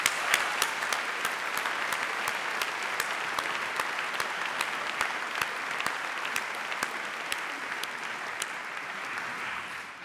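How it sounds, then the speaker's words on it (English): Audience applause at a university graduation ceremony, a steady round of clapping from a large crowd heard from a distance, with a few sharper individual claps standing out, no talking. "I think we should applaud him."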